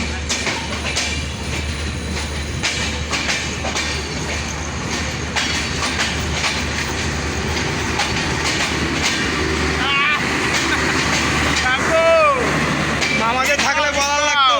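The Ekta Express, an intercity train from Panchagarh to Dhaka, rolls past on the rails with a continuous loud rumble, clacking wheels and rising metallic squeals, while voices talk over it.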